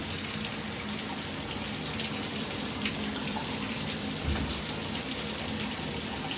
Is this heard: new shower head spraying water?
yes